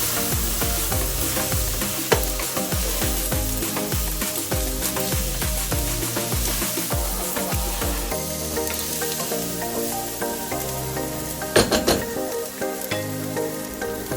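Pork belly with black pepper sizzles steadily in a hot pan while a utensil stirs and scrapes through it in repeated strokes, the frying hiss loud and continuous throughout.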